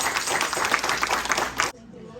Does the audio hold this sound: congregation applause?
yes